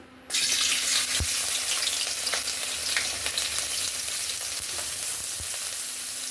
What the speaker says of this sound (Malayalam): ചീനിച്ചട്ടി ചൂടാകുമ്പോൾ ചെറുതായിട്ട് അരിഞ്ഞിട്ട് ഇഞ്ചി അതിൻ്റെ ഇട്ട് ഇട്ട് കൊടുക്കാം നമുക്ക്